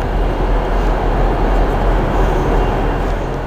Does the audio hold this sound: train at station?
yes